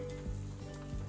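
A frying pan sizzles as food cooks over heat, a steady dense hiss with a few soft scraping bumps, close and continuous with no talking.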